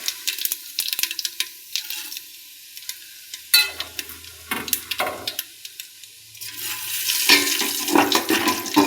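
Cumin seeds hit hot oil in a khichuri pot, giving bursts of crackling sizzle that swell and fade, with a louder spluttering surge toward the end.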